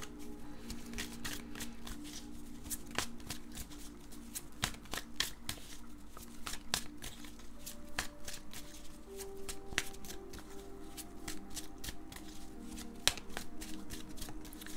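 A Game of Thrones tarot deck is shuffled by hand with soft, steady riffling and slapping of cards throughout, fairly quiet and close, with no speech.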